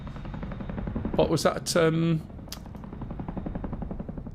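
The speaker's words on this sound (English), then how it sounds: "I missed it because the chopper was noisy" A helicopter in the DCS World flight simulator game gives a steady chopping rotor rumble under a person speaking, with a brief louder burst in the middle.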